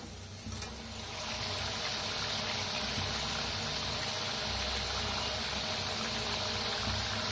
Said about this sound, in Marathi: छान दोन्ही साईडने तळून घेऊया.